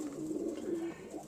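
Breeder cock pigeons coo in a low, steady warble that swells and holds for about a second, close by in a loft with no talking.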